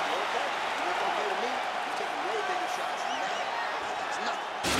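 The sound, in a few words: crowd applause in the video game UFC 4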